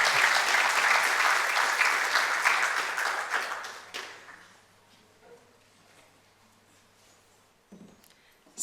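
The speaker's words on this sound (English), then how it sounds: "Round of applause for the pronunciation" An audience claps steadily and loudly for about four seconds, then the applause fades to a quiet room with a faint thump near the end.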